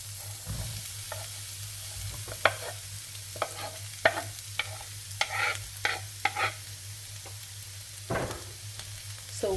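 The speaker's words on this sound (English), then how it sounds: "So one large onion diced, and I'm going to just make sure I cook this" A diced large onion frying in a pan while being stirred, with a steady low sizzle and a series of sharp scraping stir strokes at irregular intervals, close and alone without speech.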